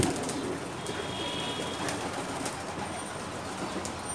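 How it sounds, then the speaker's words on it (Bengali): Pigeons coo softly inside a loft in a Dhaka pigeon market, low murmuring calls set against a steady background hum, with no talk. "ওই যে আপনাদের ওইখানে একটা কবুতর দেখা যাচ্ছে"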